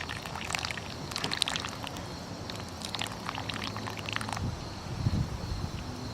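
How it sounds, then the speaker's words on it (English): Hot water pours over yerba mate in a filter, a soft, uneven trickle and splash close by that lasts several seconds with no talking. "Go ahead and just pour the rest of your heated water in the direct center"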